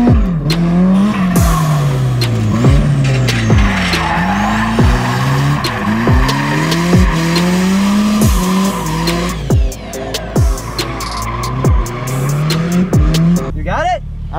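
Cars drift in tandem around a track, engines revving up and down in repeated sweeps while tires squeal continuously, loud and close, with people talking and cheering over it.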